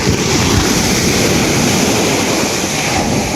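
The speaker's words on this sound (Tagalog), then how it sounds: "Ito guys ang dagat" Strong sea waves off Calatagan, Batangas, rolling in as a continuous roaring wash, with wind buffeting the microphone throughout and no voices.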